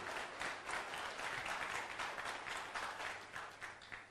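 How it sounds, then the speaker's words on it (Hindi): An audience at a talk on success and universal laws applauds steadily throughout, dense even clapping that sounds somewhat distant and fills the clip without any voices. "जोरदार ताली मारिए"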